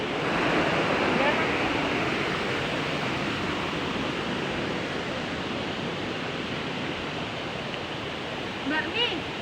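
Jumog Putri waterfall at Tawangmangu in Central Java: a dense, steady hiss of falling water, loud and close, filling the clip with a constant roar, while people's voices surface briefly near the end.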